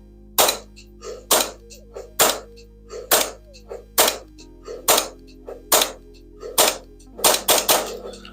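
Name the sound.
airsoft gas blowback pistol test shot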